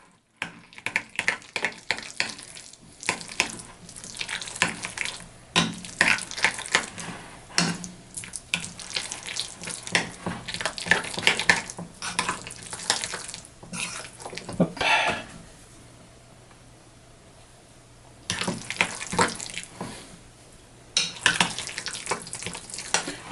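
Potatoes are stirred together with a poured-in mixture in a bowl, giving wet, squelchy, scraping mixing sounds in irregular bursts, close and fairly clear, with a quiet pause about two thirds of the way through.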